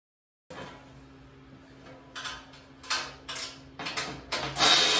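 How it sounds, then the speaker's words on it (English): Top bolts are snugged on a Ranger RL 8500 brake lathe, with bursts of close metallic ratcheting clicks that grow louder toward the end over a faint low hum. "now I'm just going to snug the top bolts up"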